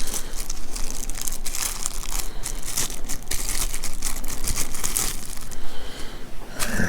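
A thin plastic bag crinkles and rustles loudly up close as a Boker Plus URD 2.0 mini cleaver is pulled out of it, with irregular bursts of crackling throughout.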